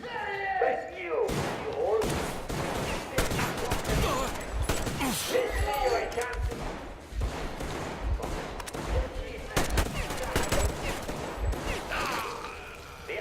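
Shotgun blasts and heavy gunfire in the post-apocalyptic shooter Metro Exodus, a dense run of sharp loud bangs and thuds repeating through a busy battle mix, with speech in the game.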